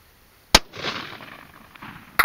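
A .243 rifle firing 90-grain Sierra Gamechanger bullets at a target 1000 yards away: a sharp, loud crack rolls into a fading outdoor echo, then a second sharp report arrives about 1.7 seconds later.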